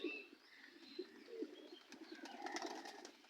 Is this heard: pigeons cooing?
yes